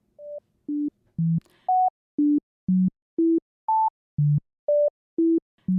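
A sequence of short, pure electronic tones jumps between high and low pitches in a steady rhythm, forming a disjointed melody with silence between notes.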